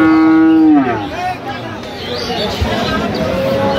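A cow gives a loud, close moo at the start, followed by a busy murmur of people talking nearby at a cattle market selling dairy cows and calves.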